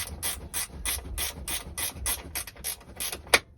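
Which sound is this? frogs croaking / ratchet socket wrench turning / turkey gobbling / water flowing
ratchet socket wrench turning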